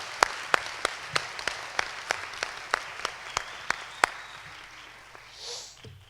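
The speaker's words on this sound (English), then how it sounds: "one last applause for all of our MYP certificate recipients." Sparse, evenly spaced hand claps at a school MYP certificate ceremony, about a dozen sharp claps in a steady rhythm that stop after a few seconds, followed by quiet room noise.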